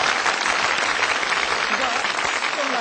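A lecture audience claps together after a score is announced, giving dense, steady applause that sounds close and fairly loud for a few seconds.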